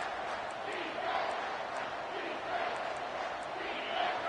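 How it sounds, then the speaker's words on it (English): A stadium crowd in the college football video game NCAA 25 keeps up a steady, moderately distant roar of cheering and yelling, with a commentator's voice talking over it. "this crowd will blow out a vocal cord to help this defense"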